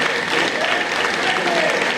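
Loud, steady applause from the audience at a debate event, a dense continuous clatter of many hands filling the brief moment with faint voices beneath.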